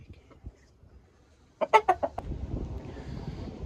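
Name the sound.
chicken clucking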